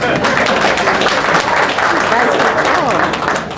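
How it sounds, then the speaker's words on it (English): Loud, full applause from a book launch audience, steady clapping filling the room with some voices mixed in and a slight fade toward the end. "A round of applause for Dr. Green, please."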